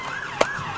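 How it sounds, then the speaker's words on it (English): A police car siren wails briefly at moderate distance, a single rising and falling tone lasting under a second, heard alone without voices. "Police car."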